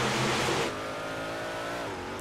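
Dirt 358 race cars in iRacing at Volusia roaring together as they accelerate to the green flag, a loud broad engine blast at first that settles into a steady, layered revving drone.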